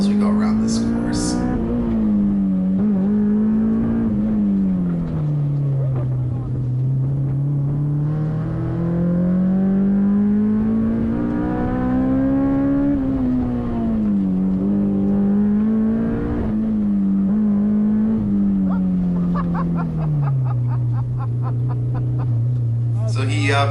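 A Honda S2000 CR on an autocross course revs up and down continuously, its engine pitch rising and falling through each corner, loud and close from inside the car, with some talk over it.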